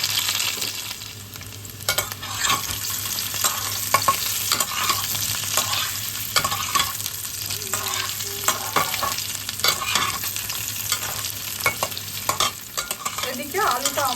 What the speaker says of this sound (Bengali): আগে থেকে সেদ্ধ করে রাখা আলুটাকে এবার ভেজে নিই।